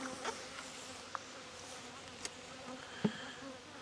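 Bees from an agitated, queenless hive buzz in a faint steady drone, with a few sharp close ticks and knocks over it.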